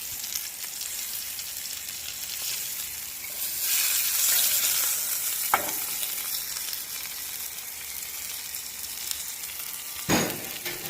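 Tuna sears in a skillet heated to about 500 degrees, giving a steady close hiss of sizzling with a couple of sharp pops and crackles and no one speaking.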